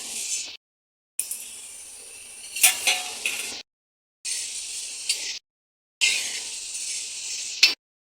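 Urad dal, coriander, fenugreek, cumin and black pepper are dry-roasted in a pan, a spatula scraping and rustling the seeds in several separate stretches, with sharp clinks against the metal and abrupt silences between.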